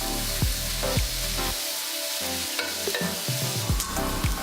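Bacon sizzles steadily in a pan for Brussels sprouts, frying in its own fat, with repeated sharp scraping stir strokes over the continuous close crackle and no talk.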